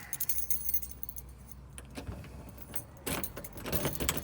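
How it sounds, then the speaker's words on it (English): A bunch of keys jangles in the hand while one is picked out for a side entrance door, bursts of metallic clinking close by with brief pauses between, over faint background traffic. "let's see which keys these ones are"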